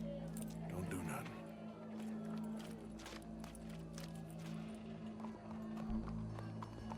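Horse hooves clip-clopping in Red Dead Redemption 2 gameplay, a quiet rhythmic trot under game music and ambient sound, with characters talking over it.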